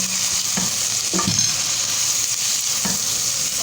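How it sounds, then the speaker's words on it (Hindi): Cumin seeds roasting in a pan for an aloo shimla mirch (potato and capsicum) dish, giving a steady, close sizzle with a few soft stirring scrapes and no talk. "जीरा डाल देंगे और इसको थोड़ा सा भूनेंगे।"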